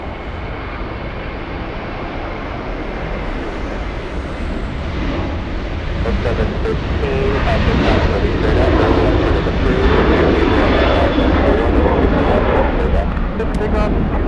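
A Delta airliner takes off from runway 24 Left at LAX, its broad engine roar steady and building louder toward the end, with radio voices talking over it.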